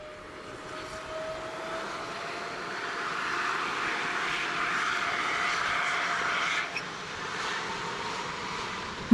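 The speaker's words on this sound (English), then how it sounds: "As the engines deliver enormous thrust, the aircraft accelerates down the runway with impressive power and precision." A Boeing 777-300 twin-engine airliner takes off under full thrust, a broad steady roar with a whining tone that swells over several seconds, heard from a distance and never fading.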